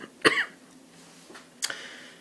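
Two separate, sharp coughs, one early and one later, with a quiet background hum between them.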